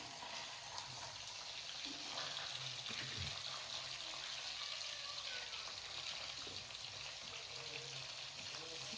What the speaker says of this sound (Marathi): आता इथे मम्मी पनीर फ्राय करत आहेत